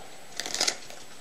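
Playing cards are riffled and cut into a deck during a sandwich card trick, a brief soft flutter of card clicks lasting under half a second, quiet and close.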